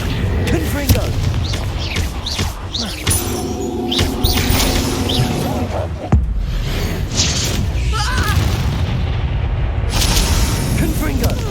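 Fiery spell blasts from the Confringo curse in Hogwarts Legacy, a series of booming bursts during a chaotic wizard duel, mixed with other spell effects, chirpy magical sounds and ongoing voice.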